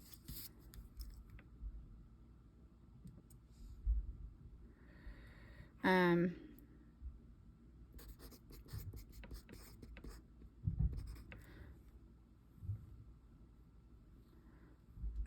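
Pen scratching on paper in short bursts while working through a physics practice test, faint and close, with quiet pauses and soft rustles between strokes and a person talking around it.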